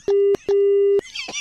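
Two long, loud, steady telephone busy-tone beeps after hanging up, each about a quarter to half a second, followed by a brief rustle of handling noise.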